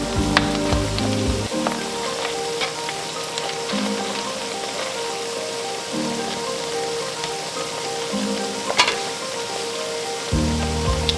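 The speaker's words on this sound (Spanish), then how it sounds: "Estamos friendo las papas, va a tomar un tiempito para que se pongan crocantes y ricas." A steady crackling sizzle of potatoes frying in hot oil, close and continuous, with occasional louder pops and low clunks of a pan.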